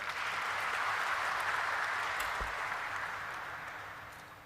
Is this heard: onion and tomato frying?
no